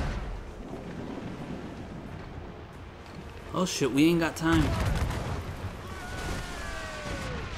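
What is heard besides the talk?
ship cannons firing at fire ships in Assassin's Creed Rogue video game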